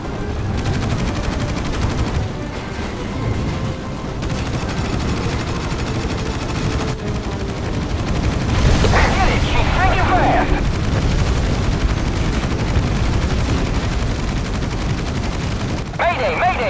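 Gunfire rattles through a naval air battle in the Battlestations Pacific video game, sustained bursts of machine-gun fire and booms over a constant engine roar, with shouted radio voices in the mix.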